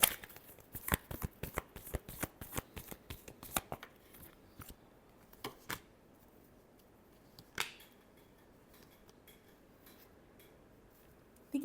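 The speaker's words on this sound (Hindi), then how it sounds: "last shuffle" Tarot cards shuffled by hand during an astrology reading, close and alone: a rapid run of crisp riffling snaps for about four seconds, then a few scattered slaps and taps with quiet gaps between.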